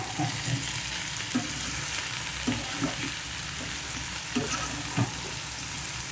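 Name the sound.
bitter gourd frying in a pan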